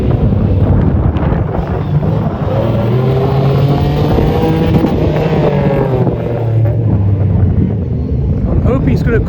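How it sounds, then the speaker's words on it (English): Audi Quattro Group B rally car at Race Retro, its engine roaring loudly and steadily with rising and falling pitch as it passes close by, mixed with wind buffeting on the microphone and voices underneath. "Audi Quattro is the fastest Audi car here at this event, and it sounds tremendous."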